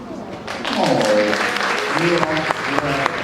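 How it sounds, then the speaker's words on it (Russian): Audience applause in a hall during a beauty pageant grand final, a steady wash of clapping that holds throughout, with voices heard over it. "Аплодисменты."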